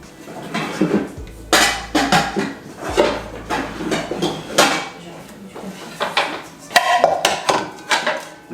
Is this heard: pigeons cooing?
no